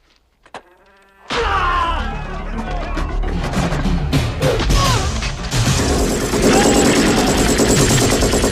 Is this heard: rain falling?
no